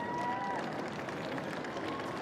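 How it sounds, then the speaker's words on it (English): A large crowd outside Prince Harry's royal wedding rejoices as he and Prince William emerge, giving a steady, distant roar of cheering and clapping that holds without a break, heard faintly. "the crowds rejoiced."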